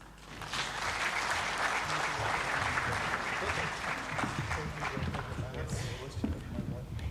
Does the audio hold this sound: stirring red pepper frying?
no